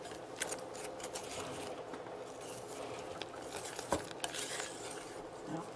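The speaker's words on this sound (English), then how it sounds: "Give that a little stir." Muffin batter for chili-cheese muffins being stirred in a bowl, a soft continuous scraping and sloshing with a few light clinks of utensil on the bowl; no talk heard.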